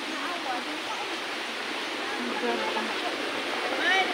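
Steady rushing water flows continuously from a mountain spring source at a resort, a broad bright wash of noise close by, with faint voices underneath.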